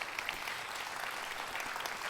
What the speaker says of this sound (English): Let's give a round of applause to our wonderful speakers and their fascinating topics today.